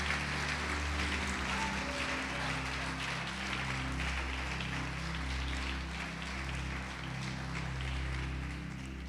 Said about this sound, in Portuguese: Quem crê pode aplaudir o Senhor e glorificar a Deus